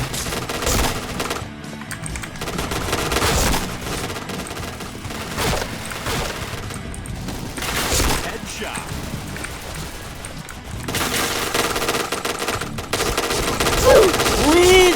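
Rapid automatic gunfire in the shooter game Point Blank, dense bursts of machine-gun shots with brief pauses, close and loud throughout, with a player talking excitedly in between.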